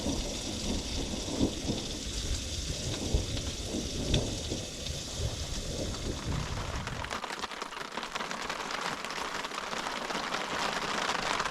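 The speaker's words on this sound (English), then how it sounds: "You gotta love it, thunder and lightning." Thunder rumbles through steady rain at a campsite, a broad continuous roar that is loudest early on before giving way to a thinner hiss of rain falling on surfaces; no one speaks.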